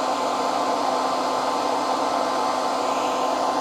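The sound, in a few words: blow dryer heating shrink wrap on golf shaft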